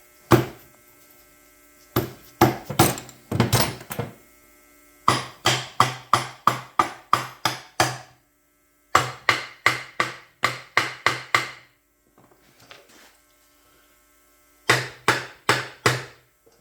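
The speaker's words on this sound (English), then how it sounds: "I'm hitting this with a hammer, but be really careful." Sharp metallic hammer blows strike a Yamaha Vmax 1200 motorcycle engine case during case splitting, in quick bursts of about six to eight strikes each, separated by short pauses, close and loud with a faint hum beneath.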